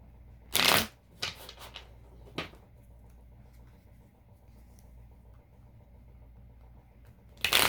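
Tarot cards shuffled by hand, a few sharp riffling bursts near the start followed by quieter shuffling, then near silence with a low hum before one more riffle at the end.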